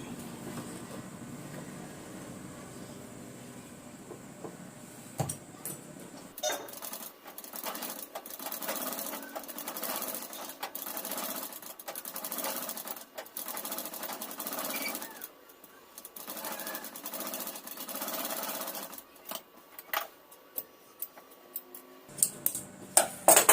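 A tailoring sewing machine stitches a round seam on cloth, running in quick rattling bursts separated by short pauses, fairly close and moderately loud.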